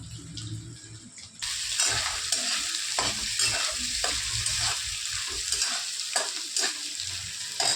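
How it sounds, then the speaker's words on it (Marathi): Sabudana khichdi, a fasting dish of soaked tapioca pearls, is stirred in a hot pan, giving a steady close sizzle with repeated scraping strokes of the spoon throughout. "छानसं मिक्स करून घ्यायचं"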